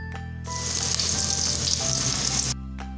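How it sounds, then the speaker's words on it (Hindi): Chopped onions dropped into half a cup of hot oil in a pan, a loud hissing sizzle bursting in and holding for about two seconds before cutting off, with a spoon stirring. "अब एक पैन में 1/2 कप ऑयल लेकर उसमें चॉप की हुई प्याज शामिल कर रहे हैं।"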